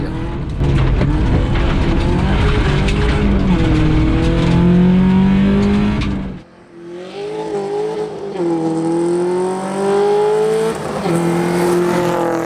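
A loud rally car engine revs hard and shifts through gears on a forest stage rally, rising and falling as it drives through a corner, with a brief dip before accelerating again.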